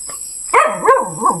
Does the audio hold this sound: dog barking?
yes